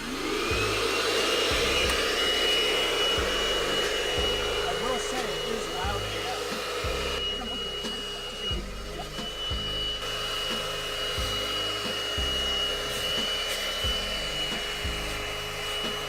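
A Bissell SpotClean ProHeat portable carpet cleaner, used on a spoiled milk stain in a car, hums steadily with a vacuum-like whir, close and continuous, and a repeating rubbing scrub runs underneath.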